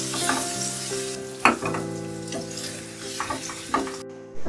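Paneer fries in oil in a kadai with a steady, close sizzle, broken by a few sharp clatters as the pieces are stirred and turned, no voices present.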